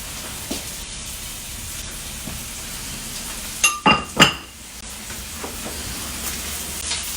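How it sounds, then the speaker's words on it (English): Flour is stirred into a hot pan with sausage and butter fat to make a roux, giving a continuous low sizzle with a brief burst of loud scraping and clinking midway. "we're going to make kind of like a roux, but we're going to do it in the same pan with everything in there"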